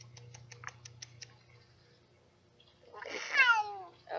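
A cat gives one fairly close, drawn-out meow after a stretch of faint ticking and near-silence.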